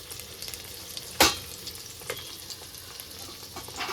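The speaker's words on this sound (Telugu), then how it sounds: "ఇప్పుడు ఉల్లిపాయలు వేగుతున్నాయి కదా" Sliced onions and green chillies fry in hot oil in a pan with a soft, continuous sizzle, broken by a sharp scrape or stir near the middle and a few lighter clinks, close and without speech.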